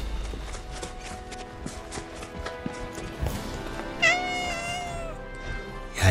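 A cat meowing in Final Fantasy VII Rebirth, with several bright, rising meows near the end over soft in-game footsteps and ambient clatter, no talking.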